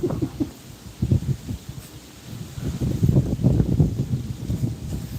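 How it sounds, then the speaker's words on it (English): Strong wind blows outdoors near a burned area, buffeting the microphone in low rumbling gusts that swell and ease over a few seconds, close and fairly loud with no voices. "Look how windy it is right now."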